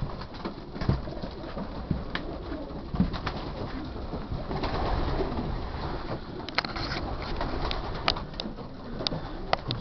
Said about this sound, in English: It's a lovely pigeon, a dark checker grizzle.